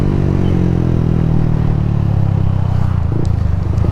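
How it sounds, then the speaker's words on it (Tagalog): A Yamaha Sniper motorcycle with a full-system aftermarket exhaust idling and revving close by, a loud, crisp, throaty exhaust rumble that holds steady throughout with slight swells. "malaki pinagbago ng tunog no malutong na malutong yung tunog nitong tambotyo na to"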